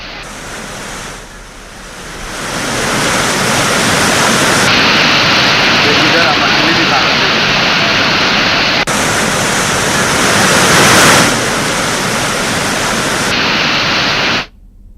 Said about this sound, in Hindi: महमरा एनीकट पर 10 फीट ऊपर से पानी बह रहा है